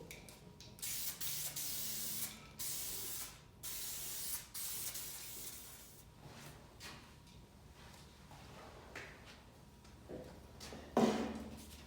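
Aerosol spray can spraying clear coat over Krylon enamel on the laminate and MDF edges of a speaker cabinet, a string of loud close hissing bursts separated by short pauses, with faint handling clatter near the end.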